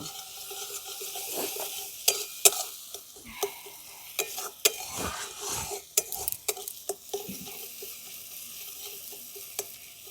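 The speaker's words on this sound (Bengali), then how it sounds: "এই সমস্ত মশলাগুলো আমি একসঙ্গে খুব ভালো করে কষে নেব" Ground coriander and cumin are stir-fried together with other spices in a pan under a steady sizzle. A spoon scrapes and clinks against the metal in irregular sharp knocks throughout.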